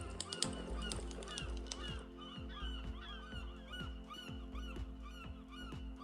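Seagulls give repeated honking, squawking calls over a steady crackling fire in a relaxation recording, the bird cries layered thickly and continuously with no talk.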